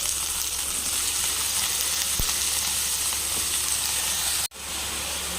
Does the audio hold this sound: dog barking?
no